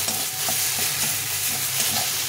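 A green curry being slowly reduced and stirred in a pan over high heat, a loud steady sizzle with rhythmic spatula scrapes, close by and free of talk.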